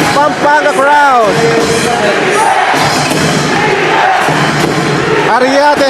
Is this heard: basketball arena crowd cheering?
yes